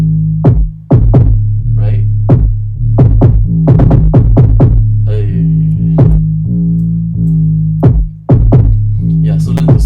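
K-pop style beat with deep 808 bass and kicks spaced out for bounce, loud punchy hits over a droning low end, with a brief spoken word partway through.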